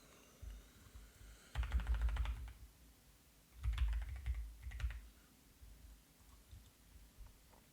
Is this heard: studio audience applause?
no